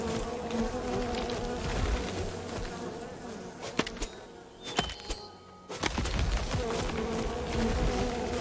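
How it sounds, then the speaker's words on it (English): Bees buzzing around treetops in the survival video game Len's Island, a constant droning hum with brief louder passes and a short quieter dip midway, no talking. "You can actually see the bees flying around."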